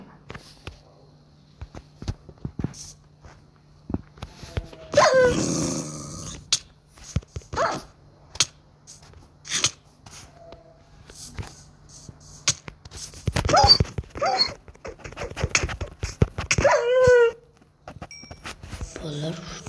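A puppy in the Minecraft video game growls and whimpers in short, scattered bursts, with rising and falling whines between them, over a quiet background.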